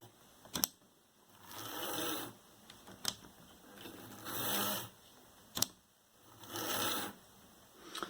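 A Graham Farish N gauge Class 101 DMU model train runs on a short test track after a service, its small motor giving a faint whir that swells and fades in regular cycles, with sharp clicks between passes.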